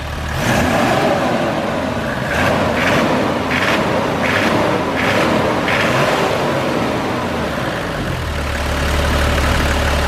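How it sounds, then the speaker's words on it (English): A Toyota Land Cruiser HZJ77 with a 4.2L 1HZ diesel engine idles steadily, then revs up in about five quick bursts before settling back to a low rumbling idle. "Let's rev it up a couple more times."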